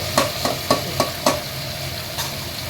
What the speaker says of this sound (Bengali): একটু নাড়িয়ে চাড়িয়ে দিলাম